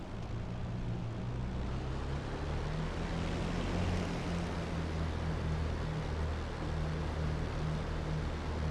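A propeller aircraft taxis at Biggin Hill in a flight simulator game, its steady engine drone and low propeller hum running loud and unbroken throughout.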